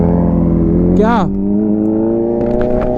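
Big motorcycle on its stock exhaust idling with a steady low rumble, then briefly revved with a rising whine around the middle before settling back, a voice speaking over it.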